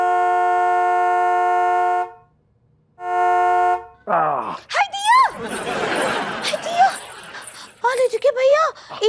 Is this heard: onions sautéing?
no